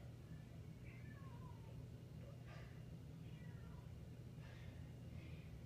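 House cat meowing faintly in a bedroom, a few short high mews spread across the stretch over a constant low background hum, with no talk.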